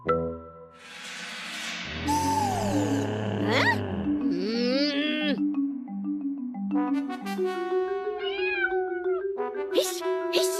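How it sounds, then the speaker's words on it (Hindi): A cat meows repeatedly in drawn-out, wavering cries, loud and close, mixed with busy background music, in a cartoon. "हिश, हिश, अरे भाग कलूटी बिल्ली"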